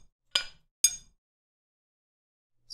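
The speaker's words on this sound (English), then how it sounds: "Maybe try one of these hammer hits." Two sharp metallic hammer-hit samples ring out, evenly spaced, each with a short bright bell-like decay, then a third faint hit begins at the end.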